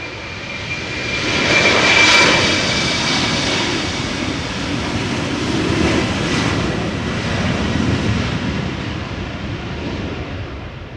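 A 14-year-old Embraer 190 jet departs Amsterdam Schiphol Airport in gusty crosswind conditions. Its engines make a loud, steady roar that swells and slowly fades across the whole stretch, with no voices.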